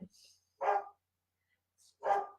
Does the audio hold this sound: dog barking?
yes